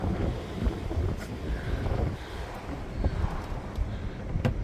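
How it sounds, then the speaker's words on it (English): Gusty wind in a snowy setting with deep snow drifts buffets the microphone in loud, uneven rushes, with occasional faint knocks and rattles in the background. "And she's pretty windy"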